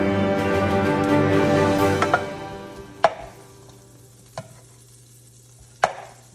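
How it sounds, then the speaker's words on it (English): Butter sautéing in a pan for Jamaican zucchini garlic shrimp pasta, a soft steady sizzle that fades over a few seconds, broken by three sharp clinks of a utensil against the pan. "Saute the butter."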